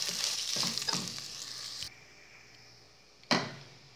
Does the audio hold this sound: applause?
no